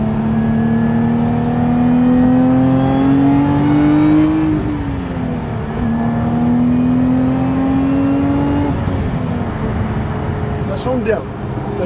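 A Lotus Emira sports car engine in sport mode drones loudly and steadily, its pitch climbing twice through the gears, with people talking over it throughout.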